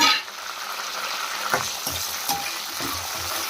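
Curry leaves fry with onions in a hot pan, a close, steady sizzle and crackle with a few soft scraping stirs rising out of it, and no voices.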